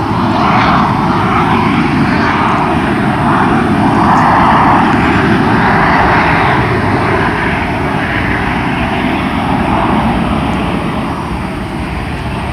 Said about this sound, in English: Those are all military aircraft.